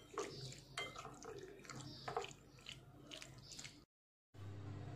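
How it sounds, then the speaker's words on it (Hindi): Chicken marinade being mixed with garam masala, black pepper powder and salt: a run of wet squelching and clinking bowl sounds, moderately close, with a brief silent gap before the mixing resumes. "black pepper powder and salt और अब हम मिक्स करेंगे"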